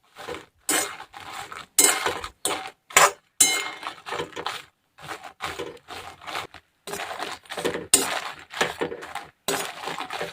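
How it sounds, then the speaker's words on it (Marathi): Dry red chillies roasting in a pan over a low gas flame, with repeated dry clinks, scrapes and rattles of chillies and a spatula against the metal pan, loud and close, in irregular bursts with short pauses and no talk. "कमी गॅसवरतीच मिरच्या भाजायच्या आहेत"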